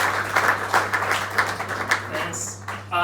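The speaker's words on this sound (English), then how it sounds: "please join me to give her applause" Audience applause at a Rust programming meetup in Berlin, a steady burst of clapping from a room of people that swells and fades over a few seconds.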